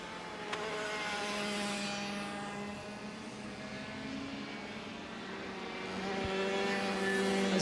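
KZ2 racing kart engines at a kart race heat, a sustained high-revving buzz with steady harmonic whine, moderately loud and continuous, swelling slightly near the end as karts come out of the final corner.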